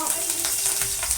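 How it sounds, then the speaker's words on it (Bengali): A short, close burst of bright sizzling as bay leaves and slit green chillies fry in hot tempering oil, with a faint stirring scrape. "আর তেজপাতা আর কাঁচা লঙ্কা ফোড়ন দিলাম।"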